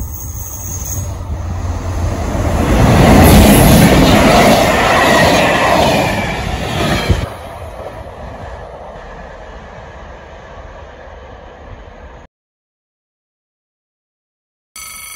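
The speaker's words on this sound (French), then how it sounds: "Super la BB 75000 en HLP." A BB 75000 diesel locomotive runs light past a level crossing, a loud rumbling approach that peaks and then fades as wheels clatter away, before a brief silence.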